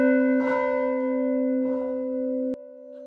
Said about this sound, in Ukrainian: Саме за допомогою дзвону у давнину людей сповіщали про небезпеку.